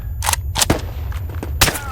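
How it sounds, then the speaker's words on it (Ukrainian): Gunfire in the Roblox war game The Eastern War: several sharp, separate shots crack out in an uneven sequence, with a couple of fainter reports between them over a low steady background hum. "А він звідти стріляє"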